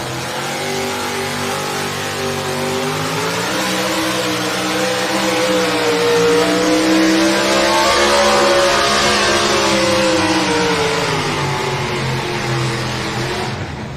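A Chevrolet pulling truck roars at a truck pull, its engine revving loud and close with climbing, wavering harmonics that hold a steady, sustained bellow for the whole stretch.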